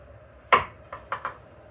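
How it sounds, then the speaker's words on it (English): Knife chopping zucchini into chunks on a cutting board during home cooking: one firm close chop followed by three lighter quick cuts, with no talk. "So now we're going to cut our zucchini."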